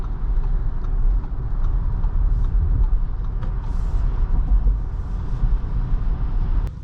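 An Audi Q8 e-tron electric SUV on the move gives a steady, loud hum of motor whine and road noise that holds evenly throughout, with no voices.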